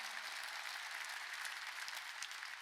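A church congregation applauds during a Sunday worship service, a continuous, fairly soft wash of many hands clapping at some distance, steady throughout the brief stretch with no speech over it.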